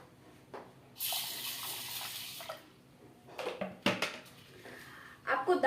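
Lentils being rinsed in water for a dal made in a home kitchen, with bursts of running and splashing water and some clatter of a vessel, heard close up with no talk.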